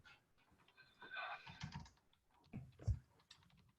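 Typing on a computer keyboard, close and moderately quiet, with bursts of rapid keystrokes and a few heavier key presses toward the end, no talking.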